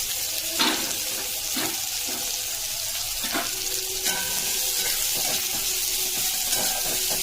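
Onions frying in a pan make a loud, continuous sizzle with a few brief stirring clatters and occasional crackles, close and steady with no talking.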